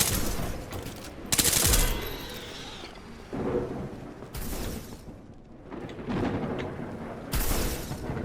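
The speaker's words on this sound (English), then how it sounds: "somebody's shooting at me." Repeated gunfire bursts in the video game Nuclear Epoch, loud broadband volleys crack out in several separate clusters with rumbling gaps between them, sounding like a firefight nearby and further off.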